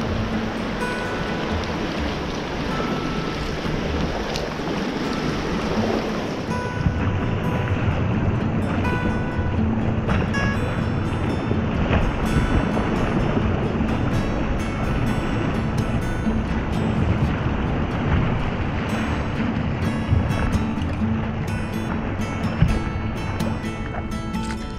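Kayak paddling down the Guyandotte River in West Virginia, a continuous rush of flowing water and wind buffeting the microphone, with faint splashes, growing louder after the first few seconds.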